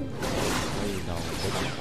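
A bomb explodes in a Star Wars video game battle, a dense, loud rushing blast that fills the whole short moment with no voices.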